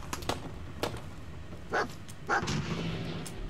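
A dog barks a few times, sharp and spaced out, over a quiet background with soft clicks, in the video game Fallout 4.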